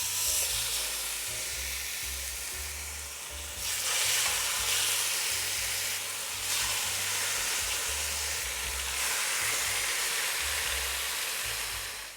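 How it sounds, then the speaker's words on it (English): Pork chops sizzling in about two tablespoons of oil in a pan, a loud steady frying hiss with surges as the meat settles, no talking. "add in a little bit of oil. About 2 tablespoons or so of oil. Now you just want to go ahead and add in them pork chops."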